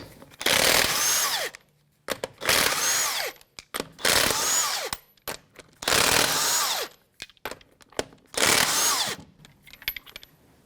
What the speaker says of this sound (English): 22mm socket to remove the lug nuts.